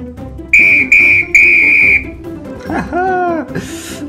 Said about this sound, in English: Yellow color whistle.